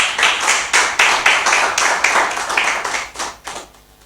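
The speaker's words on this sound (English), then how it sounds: "you all deserve a big round of applause" A seminar audience claps for several seconds, a sustained burst of many hands with rhythmic peaks that gradually fades out toward the end.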